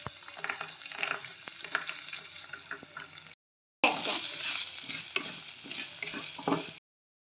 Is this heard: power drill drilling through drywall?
no